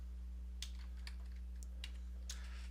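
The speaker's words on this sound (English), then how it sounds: "Philip, I could type in Joseph," Names are tapped out on a computer keyboard, a few short bursts of faint, close keystrokes over a low steady hum.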